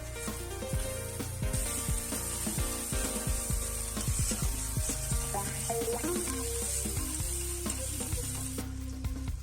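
Spice paste for shol fish korma fries in a pan while being stirred, a continuous close sizzle with repeated scraping and clinking of the spoon against the pan.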